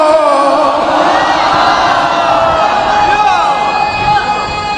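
Crowd at a Muharram majlis gathering in Mandarawala raises loud religious chants, a dense, steady roar of many voices shouting together throughout.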